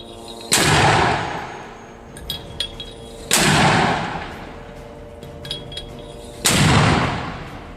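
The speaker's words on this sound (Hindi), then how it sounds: "इसके बाद हमास का दूसरा लड़ाका लॉन्चर में रॉकेट भर के ताबड़तोड़ तरीके से फायर करने लगता है।" Rocket launcher fired by a Hamas fighter, three loud whooshing blasts spaced about three seconds apart, each a sharp broadband burst decaying over a second, with faint clinks and rattles of reloading between shots.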